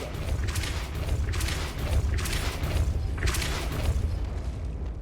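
Depulso, a force spell in Hogwarts Legacy, is cast, producing several loud, booming whooshes in a row over a dense, rumbling game background, with no talking.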